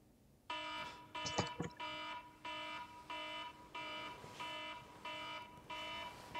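An alarm sounds in repeated loud, steady electronic beeps, about nine even pulses in a row, with a brief clatter near the start.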